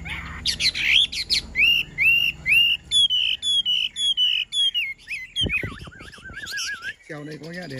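A hwamei songbird in a hand-held cage sings loud and near, with quick runs of whistled chirps and trills, then a voice speaks briefly at the end.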